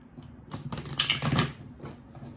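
A deck of tarot cards is shuffled close by in about one and a half seconds of quick riffling clatter. A few faint taps follow.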